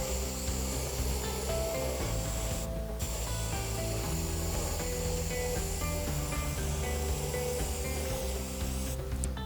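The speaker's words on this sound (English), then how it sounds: "we will spray only this part of the" Continuous close spray hiss from painting part of a cube, steady and loud for the whole stretch, with a low mechanical hum underneath and two brief breaks in the spray.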